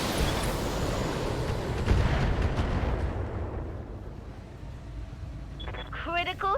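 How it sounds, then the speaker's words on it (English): A mech in BattleTech firing all its weapons at once, a loud roaring volley of blasts and booms that fades into a rumbling tail, with short chirping electronic tones at the end. "Firing all weapons."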